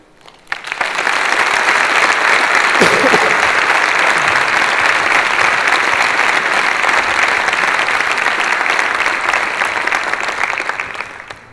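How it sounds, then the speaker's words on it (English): Sustained applause from a conference audience after a student's short talk at an Ignite session, starting abruptly and holding steady and loud for about eleven seconds with no voices on top. "maybe another round of applause for Josiah"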